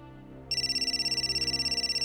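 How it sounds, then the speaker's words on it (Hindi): A mobile phone starts ringing after a brief quiet moment, a steady, pulsing electronic tone repeating rapidly and clearly. "अरे मेरा फोन।"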